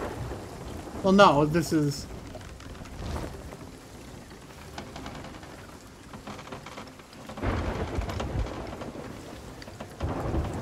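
A stormy sea in the pirate video game Sea of Thieves, with steady heavy rain and rolling thunder rumbling loud throughout, joined by a brief spoken remark near the start.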